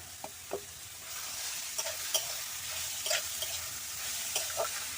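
Potatoes and carrots with spices being stirred while frying in a pan, a steady soft sizzle broken by several sharp scraping strokes of the spoon spread across the clip.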